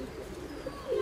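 Pigeon in a dovecote with a single brief, low coo near the end, close and quiet, no voices.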